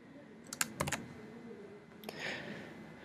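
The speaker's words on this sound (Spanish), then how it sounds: "una vez que digitamos el usuario y la clave" Keystrokes on a computer keyboard as a username and password are entered: a quick burst of crisp clicks, then a single tap and a softer rustle, all faint and close, with no speech.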